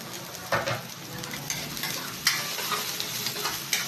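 Garlic, onion and ginger sizzle in a hot pan for a boneless tilapia curry, a steady close fry with a spatula scraping and stirring in a few sharp strokes.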